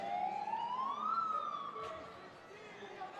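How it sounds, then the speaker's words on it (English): A siren sounding in the arena at a Muskegon Risers versus Detroit Waza indoor soccer match, its tone rising and holding steady as a loud continuous wail, with faint crowd noise underneath. "That siren will never not alarm me."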